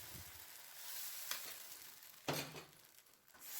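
Idli batter hissing and sizzling steadily as it is poured into a hot appam pan, with a soft continuous fry noise and a couple of brief louder bursts.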